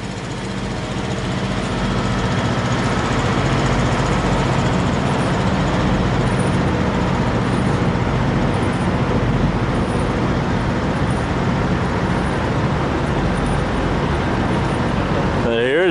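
A truck engine idles loudly and steadily at a truck stop, a constant low rumble with passing traffic blended in, ending in a brief shifting whine.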